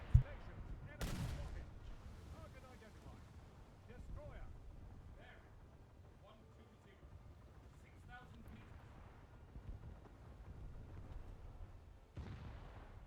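Cluster mortar rounds fire in War Thunder, opening with one sharp loud blast and a second heavy boom about a second later, then settling into a low rumbling battle bed with scattered distant thuds and a final burst near the end.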